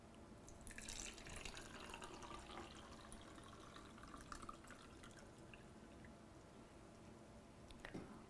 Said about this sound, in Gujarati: ગ્લાસમાં પાણી લઈએ.